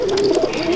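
A pigeon's low, soft coo, steady and close, heard alone for a brief moment.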